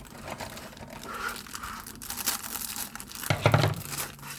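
Walkers crisp packet crinkling and tearing as it is ripped open, a steady close rustle building to a louder crackling burst near the end, with no talking.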